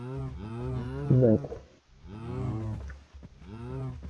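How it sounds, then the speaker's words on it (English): Cows in a video game moo repeatedly, long, loud, overlapping lowing calls from several animals close by, with a brief voice heard among them. "Man, there are a lot of cows in there."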